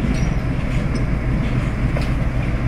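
WDG4G diesel locomotive hauling BOXNHL coal wagons loaded with imported coal, a loud steady rumble of a freight train passing close by, with rolling wheel noise throughout.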